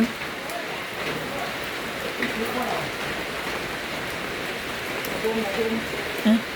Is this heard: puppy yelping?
no